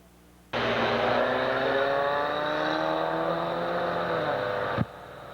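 Race cars in a Young Guns division heat race at Pennsylvania Motor Speedway near Pittsburgh roar in a loud, continuous, close engine drone for several seconds before abruptly cutting off.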